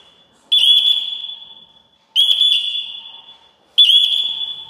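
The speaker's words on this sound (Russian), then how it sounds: "так сработала сигнализация" A building's alarm sounds in three loud, shrill electronic bursts, each about a second and a half long and separated by brief gaps, in a new apartment complex.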